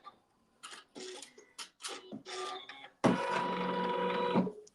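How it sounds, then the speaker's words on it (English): Sewing machine stitching a tack-down stitch on log cabin quilt blocks, a few short stop-start bursts of stitching followed by a longer, louder steady run, close by. "it can sew the tack down stitch"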